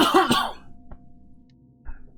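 Two harsh coughs close to the mic in quick succession, followed by quiet and a small faint thump.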